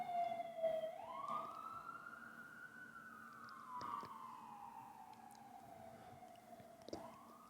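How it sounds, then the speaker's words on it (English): An emergency vehicle siren passes by on the street, its wailing tone sweeping up and down continuously, clear and fairly close, with no talk over it. "We're going to wait till this siren go by."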